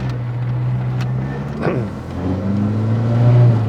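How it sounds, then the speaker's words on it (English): A Citroën Visa GTi's small petrol engine hums steadily, then revs up with a rising whine before settling back to a throaty idle-like drone, heard from inside the car. "I like the engine sound, and the pickup really picks up revs quickly."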